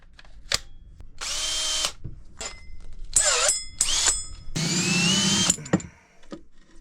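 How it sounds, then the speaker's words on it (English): A power drill whirs in several short bursts while drilling a hole on a sailboat to fit a watermaker, revving up and down with brief pauses between, close and loud. "once I drill this hole, it's pretty permanent."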